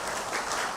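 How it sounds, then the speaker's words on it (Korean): A church congregation applauding during a Sunday service, a brief wash of dense, even clapping filling the room with no voices. "인사드리실 때 우리 축하의 박수 보내드리도록 하겠습니다."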